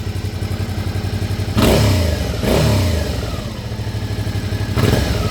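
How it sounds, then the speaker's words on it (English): A Suzuki V-Strom 650 XT motorcycle from 2017 or 2018 idles with a steady pulsing beat, then its engine is revved through the exhaust in two sharp rises that fall away, and a final blip comes near the end. The sound is loud and close, with no talk. "Let me give it a rev, see if that."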